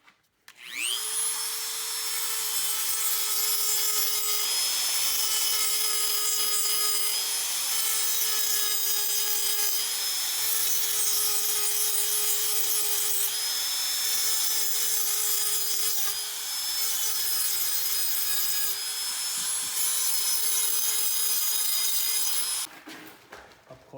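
A STIHL KM 94R trimmer's blades are sharpened with a power tool, giving a loud, steady grinding whine that runs nearly unbroken for over twenty seconds, then cuts off abruptly near the end.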